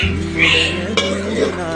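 Kothu parotta is stirred and tossed in a pan, with close scraping and light metallic clinks against the pan and a brief sharper knock midway.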